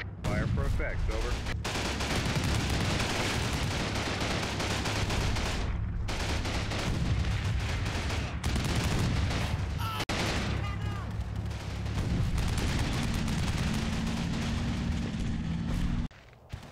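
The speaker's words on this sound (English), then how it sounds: "German AT gun continues to fire with little success and is quickly identified and is placed under intense fire until it goes quiet." Intense gunfire and machine-gun bursts rattle almost continuously in Combat Mission Battle for Normandy as a German anti-tank gun is targeted, loud and sustained, with heavier booms mixed in before the firing drops away near the end.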